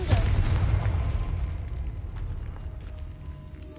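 A Confringo spell explosion in Hogwarts Legacy goes off near an altar: a sharp, heavy boom opens the sound, then a deep rumble slowly dies away, with no speech over it.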